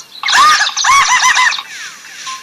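A cartoon baby bird lets out several loud, close, high chirps in quick bursts, then a softer trailing tweet.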